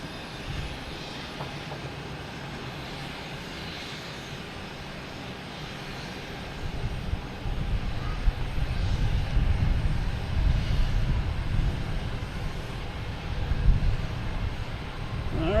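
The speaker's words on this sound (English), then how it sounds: "Next takeoff is Delta, heading to Edinburgh." A Delta airliner takes off at Boston Logan Airport: a steady distant jet roar that swells louder and heavier over the last half of the clip, rumbling low with no voices.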